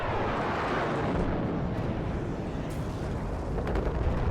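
Continuous rumbling barrage of artillery, explosions and gunfire in the real-time strategy game Warno, a dense, steady roar with occasional sharper bursts, no talking.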